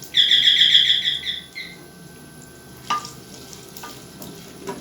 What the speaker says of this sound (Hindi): अब इसमें मैं 2 दरमियाने साइज़ के जो प्याज हैं उनको मैंने चॉप किया हुआ है वो मैं इसमें ऐड करने लगा हूँ।